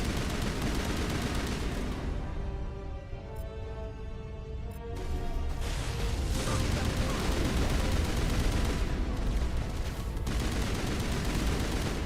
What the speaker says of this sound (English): just try my stupid assault rifle